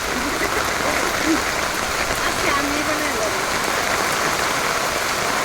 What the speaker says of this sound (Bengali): সেই বৃষ্টিটাও শুরু হয়েছে